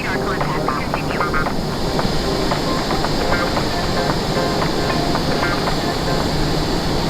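F/A-18 Super Hornet jet taking off from Melbourne, Australia in a flight simulator game, giving a steady, loud, continuous engine roar with a broad rushing hiss and no pauses throughout.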